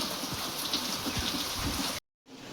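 Rain falls around an outdoor village cooking stove, a dense, even patter with no voices, cutting abruptly to silence near the end before resuming briefly.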